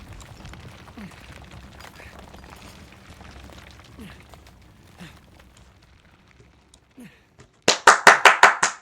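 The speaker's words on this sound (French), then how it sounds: "On applaudit, les gars. On applaudit." A burst of about six sharp hand claps in quick succession close by, coming after several seconds of quiet, low game ambience with soft thuds.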